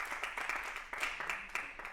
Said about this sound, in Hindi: पहले तो मैं चाहूंगा एक बार आप लोग अपने लिए जोरदार तालियां बजा दो दोस्तों।